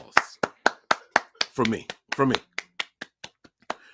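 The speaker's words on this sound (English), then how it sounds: "And a round of applause." About fifteen sharp, evenly spaced hand claps ring out close by for a round of applause for a 49ers coach, with a voice speaking briefly in the middle of the clapping.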